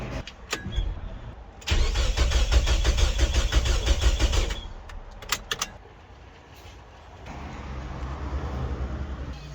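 A Mitsubishi Lancer with a turbocharged 4G93 engine cranks in a loud burst of about three seconds with a rapid starter rhythm, then falls quiet with a few clicks and rattles before a low hum returns.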